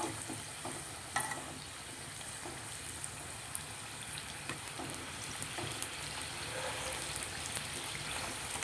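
Sweet somas, a Diwali pastry, frying in hot oil over a low flame, giving a steady close crackle and bubbling hiss with faint scattered pops throughout and no voices.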